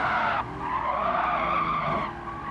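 Nissan 350Z Version S (Z33) from 2007 braking hard and skidding in the Gran Turismo Sport racing game, a loud sustained tire screech over engine noise lasting a couple of seconds.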